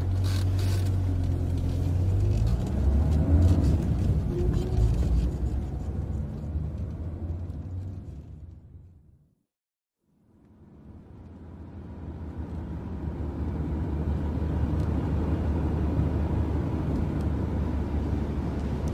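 A car drives along in a steady, loud engine and road rumble that fades away to near silence in the middle and then builds back up to the same level.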